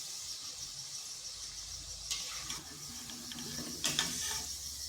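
Bhaja pitha fry in hot oil and are stirred, making a steady hissing sizzle with a few scraping, clinking stirs near the middle and end.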